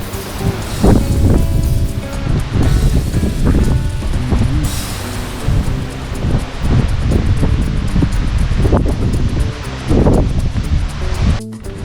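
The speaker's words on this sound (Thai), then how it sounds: "ลม ลมเย็นนี่ลมเย็น ลมแรงมากเลย" Strong, cool wind blows across a high mountain road between Phetchabun and Loei, buffeting the microphone with loud, rushing gusts that swell and fade continuously.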